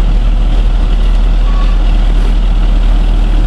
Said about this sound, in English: That's just the tanks just bringing her up off the ground.